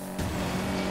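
In a racing video game, a Golf car drifts, starting with a sudden rising engine roar and then a sustained tire squeal with a strained, whining engine tone. Everything is close and loud, and no one speaks.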